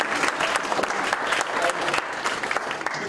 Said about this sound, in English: So I think we should have a little clap for Anthony.